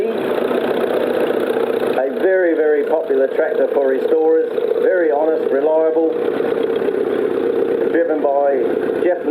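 A small Case Model C tractor engine runs steadily throughout, a continuous mid-pitched drone under a voice commentating over a loudspeaker at a restoration club parade.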